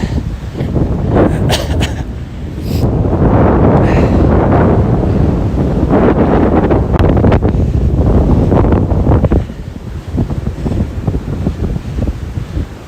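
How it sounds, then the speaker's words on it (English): Strong wind buffets the microphone on an exposed ridge trail near Bozeman, Montana, a loud, continuous roar with gusts that ease briefly near the end. "The worst part is the direction the wind's coming, going back is going to be straight at my face."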